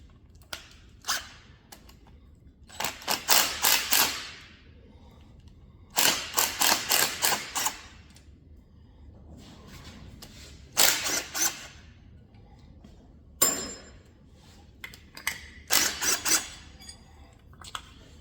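Tools working on a worn Chevy 305 engine as the intake is pulled off, with bursts of rapid ratchet clicks and metallic clanks separated by quieter pauses, close and dry.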